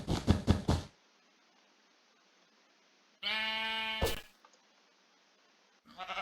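Two bursts of sheep bleating from a Minecraft game are separated by near silence. A short knock-like click comes at the start and another at the end.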